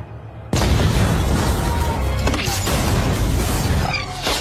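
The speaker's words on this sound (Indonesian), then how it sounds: "Sehingga ketika bom itu meledak, semua orang yang ada di sana menjadi panik di tempat itu juga." A bomb blasts beneath a car in an action film, a sudden loud boom followed by a sustained roaring crash and rumble of debris that fills the whole stretch.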